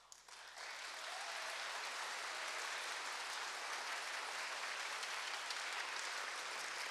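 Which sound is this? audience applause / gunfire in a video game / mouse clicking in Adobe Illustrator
audience applause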